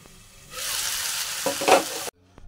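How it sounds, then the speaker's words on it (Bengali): Vegetables frying and being stirred in a pan for a drumstick and lentil dumpling dish: a steady sizzle with scraping stirs, swelling louder near the end before cutting off abruptly, no talking. "দেখো, সবজিগুলো কিন্তু ভাজা ভাজা হয়ে গিয়েছে।"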